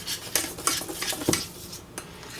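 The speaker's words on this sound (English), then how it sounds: "Baking powder, some salt, and I whisk together all of the dry ingredients" Dry ingredients, baking powder and salt, whisked in a bowl for sugar cookies, giving quick, close clinks and scrapes of a whisk against the bowl in short irregular bursts with no talking.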